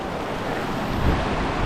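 River water near a hidden waterfall in Georgetown, St. Vincent and the Grenadines, a loud, steady broadband rush with no breaks, close to the microphone.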